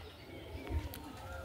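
Pigeons in a loft, including an old-generation male with a white head, give soft low coos, one fuller call standing out briefly near the middle over a steady room hum.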